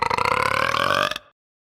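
A single long, loud, rumbling burp lasts about a second before cutting off abruptly, heard alone with no talking.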